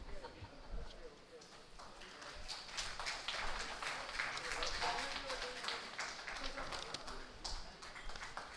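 An award ceremony audience at the SEEM Energy Conclave 2025 breaks into sustained, dense clapping, a steady rattle of many hands that holds loud and even throughout.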